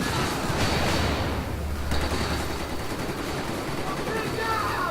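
Continuous gunfire from a weapon in Battlefield 4, a dense sustained burst as the trigger is held down, loud and close with a steady rattling texture throughout.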